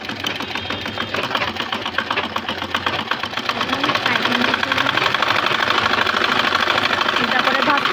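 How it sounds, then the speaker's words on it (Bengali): A sewing machine stitches a simple women's blouse with a continuous rapid clatter that grows slightly louder midway, while someone talks over it. "লাগানোর পর এখন চাপ সেলাই দিচ্ছে।"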